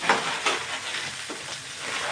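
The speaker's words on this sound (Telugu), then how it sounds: "తర్వాత పచ్చిమిర్చి మంచిగా ఫ్రై చేసుకొని" Green chillies fry in oil in a pan, a close, continuous hissing sizzle with a couple of brief sharper crackles near the start, heard alone without speech.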